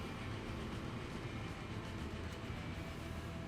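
Double-headed freight trains with long strings of wagons run in the video game Transport Fever 2, a faint, steady rumble throughout.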